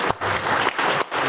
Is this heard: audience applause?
yes